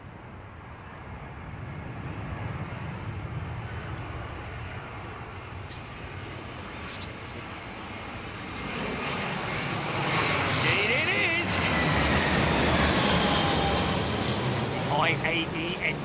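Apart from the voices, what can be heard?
airliner taking off at London Heathrow Airport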